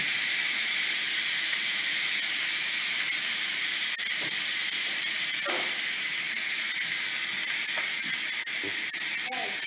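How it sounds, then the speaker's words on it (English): A pressure cooker releasing steam after cooking Salisbury steak patties, hissing loudly and continuously at close range, with scattered faint clicks underneath. "so we let all the pressure out"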